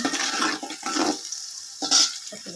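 Bay leaf, cardamom and cinnamon frying in oil for beef bhuna khichuri, stirred in short scraping bursts over a steady sizzle, close and fairly loud with brief pauses between strokes.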